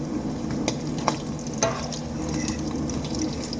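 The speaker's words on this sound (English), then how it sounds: "But I cook my bacon in an iron skillet because I really like the way it turns out." Bacon fries in an iron skillet with a steady low sizzle and a few sharp, scattered pops and crackles, moderately close, with no voices.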